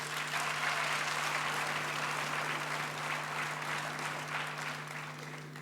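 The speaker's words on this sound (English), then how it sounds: "Can we give our academic staff here a round of applause?" A graduation ceremony audience applauds academic staff in broad, continuous clapping that carries steadily throughout, with a low hum beneath and fairly quiet overall.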